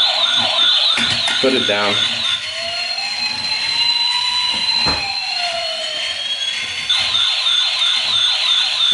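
Velocity Toys Mini Pumper fire rescue toy truck wailing a loud electronic siren that sweeps up and down close by, with a brief spoken word partway through.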